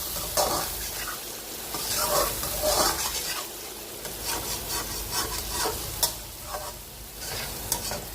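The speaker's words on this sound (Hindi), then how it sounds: "अब जो है इसमें मैं ये चिकन शामिल कर दूंगी, जो मैंने अपना फ्राई करके निकाला था।" Fried chicken pieces tumble into sizzling Balochi-style karahi masala and get stirred, a steady close hiss broken by repeated scraping strokes of the spoon against the pan, with no talking.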